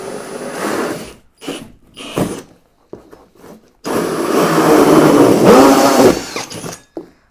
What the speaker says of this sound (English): So I'm just going to go ahead and drill this real quick.